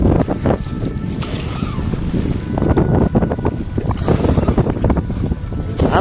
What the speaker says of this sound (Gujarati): અત્યારે પાણી ઉઝાળા મારે છે